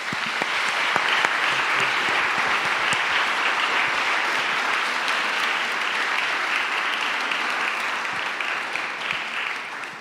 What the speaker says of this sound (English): I would have like a round of applause for the dialogue that you just had